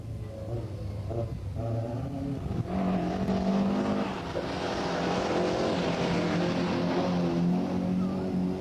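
A 1982 Kerry single-stage rally car, a Ger Buckley shell with a Joe McHale engine, roars past with a loud rising engine note that swells as it nears and stays steady and strong as it passes.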